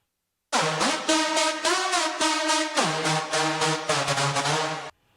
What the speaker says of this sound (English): There was something I found earlier called metallic lead.